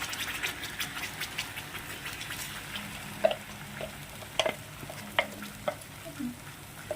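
Ground paste for a mushroom cashew masala curry fries in oil: a faint, steady sizzle with occasional soft scrapes and taps of stirring, close and quiet.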